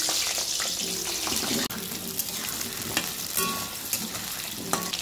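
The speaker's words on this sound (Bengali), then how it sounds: "দেবো বলে আমি এবার আলুটাকে ভেজে নেব।" Potatoes frying in a pan, a continuous soft sizzle with occasional stirring scrapes, close and moderately quiet.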